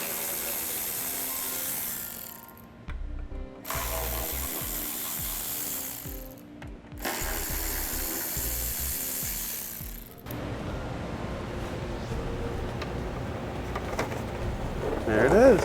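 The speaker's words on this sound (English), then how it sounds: "Now I'm going to take a 10mm socket and back out this bolt, and this bolt." Ratchet fitted with a 10mm socket backing a bolt out of a 2015 Kia Sorento during a trailer wiring installation, giving several long stretches of steady, fast clicking separated by short pauses and followed by a softer mechanical hiss.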